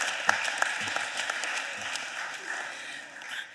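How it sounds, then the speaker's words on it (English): Applause from attendees at a Philadelphia City Council meeting honoring a longtime friend, a steady wash of clapping with a few sharper individual claps standing out, fading slightly near the end. "Let's give a round of applause for our friend, our longtime friend, Joe Divis"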